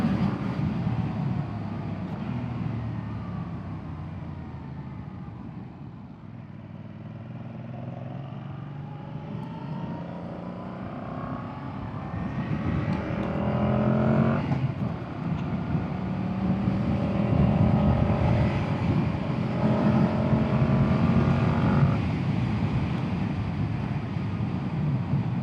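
A 2025 Yamaha MT-07 with its CP2 twin engine runs while being ridden, a continuous engine drone under wind noise whose pitch sweeps up and down as it accelerates and shifts gears.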